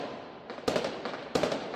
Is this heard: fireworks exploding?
yes